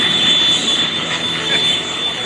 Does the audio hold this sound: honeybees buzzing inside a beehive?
no